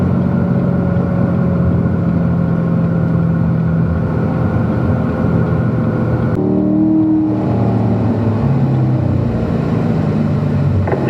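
Cars on the Spring Mountain race track, a loud continuous engine drone close by with shifting tones partway through as the engine note changes.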